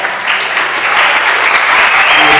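A congregation at a youth church service claps to welcome a pastor, a loud, dense burst of applause that swells within the first half second and holds steady.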